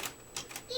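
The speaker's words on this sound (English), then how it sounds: "Oh, this is my 55-year-old typewriter." An old green 1950s typewriter being handled, giving a few quick, light mechanical clacks and key strikes in under a second, close and moderately loud, with a voice faintly present.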